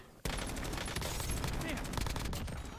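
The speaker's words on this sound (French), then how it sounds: "J'essuie des tirs." Dense, continuous video-game gunfire rattling for nearly three seconds, sustained bursts suggesting automatic weapons in a squad-based shooter match, loud and close with game sounds layered together.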